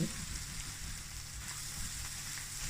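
Eggs and corn being stir-fried in a pan sizzle in a steady, dense crackling hiss, close and even throughout with no talk.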